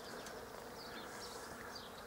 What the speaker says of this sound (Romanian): Ia să fac eu un zoom așa, să vedeți cum zboară albina